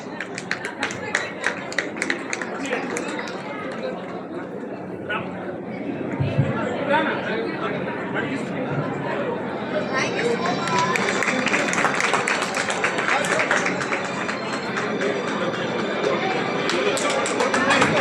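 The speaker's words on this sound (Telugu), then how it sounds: "గట్టిగా క్లాప్స్ కొట్టండి." An audience at an International Women's Day celebration claps loudly and continuously, the applause swelling in the second half over a busy background of chatter and voices.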